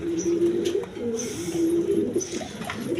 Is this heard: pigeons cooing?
yes